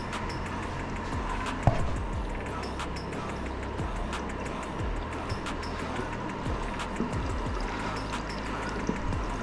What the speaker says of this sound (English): fill your radiator completely